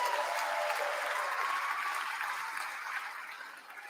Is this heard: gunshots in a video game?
no